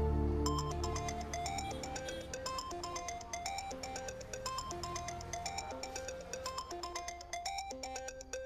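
A phone ringtone plays a repeating melodic tune continuously and unanswered, fairly loud and steady with no talk over it.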